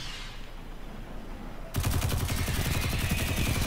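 Rapid automatic gunfire from a fire-element weapon in Destiny 2 erupts after a quieter ambient stretch, then rattles on loud and continuous through to the end.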